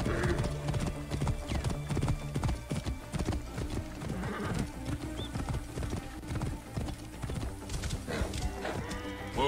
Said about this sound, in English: This horse is fast.